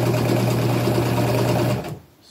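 A sewing machine runs a fast, even stitching buzz up close along an overlapped seam on upcycled clothing, then stops abruptly near the end.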